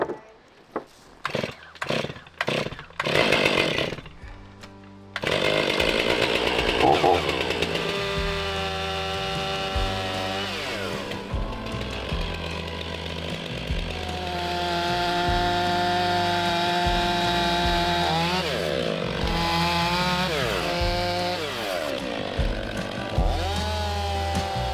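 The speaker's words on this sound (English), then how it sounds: "What do you think of that new chainsaw, bud? Does it rip or what?" A new chainsaw starts with several short sputtering pulls, then roars into a loud sustained whine, its pitch rising and dropping as the chain bites into wood during a backcountry fall harvest.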